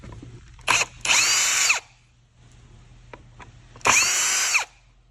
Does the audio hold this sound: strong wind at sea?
no